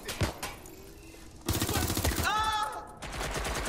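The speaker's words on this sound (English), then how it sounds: "Okay, these guns is insane." Video game gunfire from Watch Dogs Legion, heard as loud bursts of rapid shots that start abruptly partway through, with a brief tonal whine among them and a quieter stretch before the firing.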